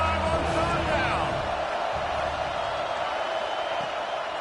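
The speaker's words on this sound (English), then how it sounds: "The Buckeye crowd alive on third down." A roaring stadium crowd at an Ohio State Buckeyes college football game against Miami swells loudly on a third down, with a broadcaster talking over the steady, dense cheering throughout.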